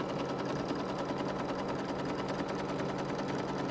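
A sewing machine runs a quilting tack-down stitch with white thread around an embroidered block, giving a continuous, even, close mechanical hum with no pauses and no talking.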